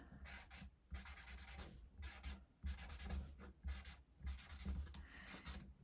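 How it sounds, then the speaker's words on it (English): A marker or crayon scratches tiger stripes onto paper for a puppet craft, brisk repeated strokes in short bursts separated by brief pauses, close and fairly quiet. "so I'm going to draw some stripes"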